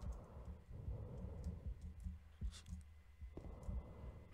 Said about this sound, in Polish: Słyszę bicie serca i sapanie.